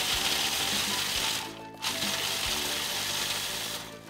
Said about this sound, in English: we're gonna chop these up in a food processor with the walnuts and just a dash of salt